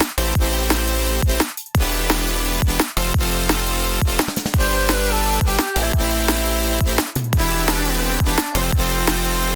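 An early drum and bass version of an electronic track, with a loud sustained bassline, fast chopped drum hits and brief dropouts between phrases, dense and continuous with no voices.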